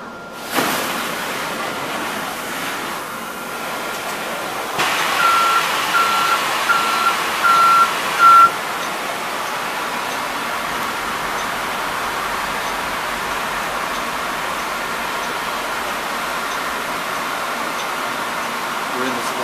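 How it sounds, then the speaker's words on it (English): An automatic bus wash cleans a bus with recycled rainwater, a steady wash of spraying water and rumbling machinery throughout, with a series of short electronic beeps partway through. "It's rainwater collected on the roof, stored in tanks below, and then recycled to clean our buses."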